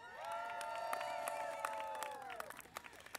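Crowd cheering and applause at the 2017 U.S. Capitol Christmas Tree lighting ceremony in Washington, D.C., a steady mass of voices with scattered claps and whoops, loud and continuous before tapering into isolated claps.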